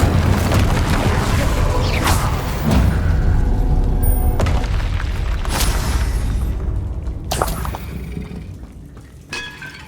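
An Incendio fire spell cast in Hogwarts Legacy, heard as a heavy rumbling whoosh with booming thuds and crackling bursts, loud and sustained before tapering off, amid other game sounds.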